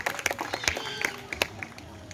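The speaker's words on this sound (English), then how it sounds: "How about a round of applause for Midnight with Alicia and Rainbow with Shalini." An audience claps in applause at a Night Safari animal show in Singapore, a dense patter of many hands with scattered sharper claps rising above it, steady and moderately loud throughout.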